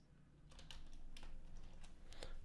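Quiet keyboard typing while entering code for an ESP32 email alert project, with soft irregular key clicks in short bursts over a low room hum.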